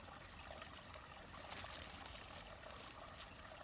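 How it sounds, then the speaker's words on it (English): Stream water trickles in a soft, continuous, fairly faint outdoor wash with no pauses and no voices. "Now I had these leaves soaking in the stream over here."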